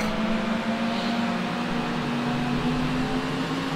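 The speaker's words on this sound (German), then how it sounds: "Der Leerlauf hört sich so an." A car engine idles in the Need for Speed Hot Pursuit 2 racing game, giving a steady, even hum with a low tonal drone that holds without change throughout.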